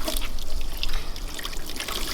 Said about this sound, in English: we need to add some water to the inside, so just go ahead and pour that in there